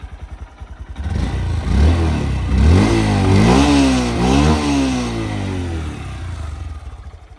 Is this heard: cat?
no